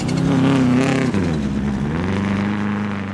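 A rally car at the Big White Winter Rally in deep snow, its engine roaring loud and close with a sharp gear change midway before the revs climb again.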